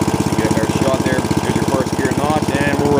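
A Snapper riding mower engine runs steadily in first gear, a close, loud throbbing drone with a rapid even pulse throughout, without speech.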